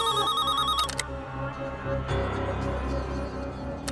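A telephone rings in a Hindi comedy film scene, a bright repeating electronic ring near and loud, followed by a second burst of ringing over background sound.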